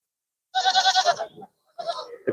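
Barbari goats at a livestock show fair near Mansa, Punjab: one loud, close, quavering bleat lasts nearly a second and fades, followed after a short pause by a second, shorter bleat.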